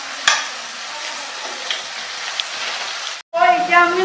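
Maggi noodles fry and get stirred in a pan, a steady loud sizzle running almost throughout, broken by a brief silence near the end before a voice starts talking.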